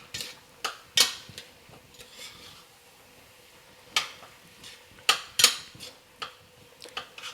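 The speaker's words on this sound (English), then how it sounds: "Stir it up and let that, get fully brown there." Browning meat stirred in a pan on a home kitchen stove, heard as sparse utensil clinks and scrapes against the pan, several sharp close taps spaced irregularly over a quiet background.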